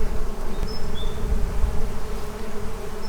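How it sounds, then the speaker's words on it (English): Solitary bees buzzing over ground on a Portuguese farm, a steady dense hum of many insects with a few individual bees zipping past close by. "The air is just buzzing with the sound. These aren't regular bees."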